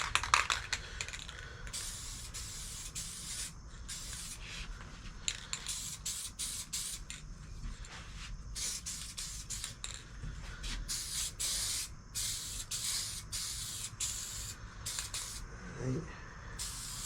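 Spray paint hissing onto a 1992 Roadmaster dashboard in a garage, a heavy coat laid down in many short close bursts with brief pauses between passes.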